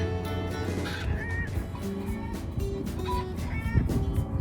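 Baby chicks moving about in grass outdoors, giving a busy mix of repeated high peeps and honk-like calls that continue steadily from start to finish, with no one talking.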